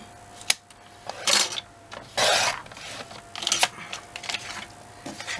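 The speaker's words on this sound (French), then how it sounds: "donc on prend notre massicot" Several short, crisp cuts and clicks from a paper guillotine trimmer while working on a scrapbook album page, close and moderately loud, spaced irregularly with pauses of quiet room sound between them.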